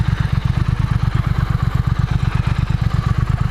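A 2018 Triumph Thruxton motorcycle engine while riding, loud and close, with a fast regular pulsing thump at steady revs throughout and no voices.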